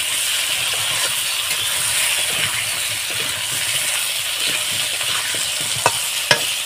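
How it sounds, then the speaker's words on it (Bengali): Sliced ridge gourd and potato fry in a pan with a steady, bright sizzle and hiss, joined by soft stirring scrapes and a couple of sharp utensil clicks near the end; no one speaks. "দিয়ে আমি ভালোভাবে ঝিঙে আর আলু ভেজে নেব"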